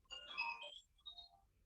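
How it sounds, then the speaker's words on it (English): A cell phone ringtone with a plinking, toy-piano-like melody plays a short burst of bright notes, pauses, then adds a few fainter tones, heard fairly quietly in an indoor yoga session. "It's a cell phone. Sounds like a children's ploinkety ploinkety ploink piano."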